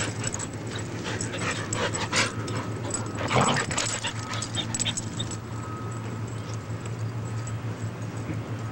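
A dog pants steadily up close, with faint whimpers and yips breaking through and a brief louder scuffle partway.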